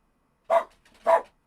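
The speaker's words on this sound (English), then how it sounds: "it's my dog barking" A pet dog barks twice indoors, two sharp, evenly spaced woofs heard close and clear with quiet in between.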